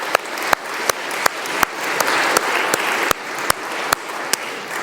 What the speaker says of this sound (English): we ought to applaud your mom and dad for all they've done in bringing you here